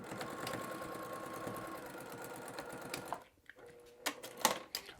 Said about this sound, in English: Take it over to your machine and do a basting stitch across it.